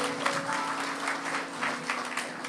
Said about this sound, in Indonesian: Kasih tepuk tangan untuk Anda sendiri.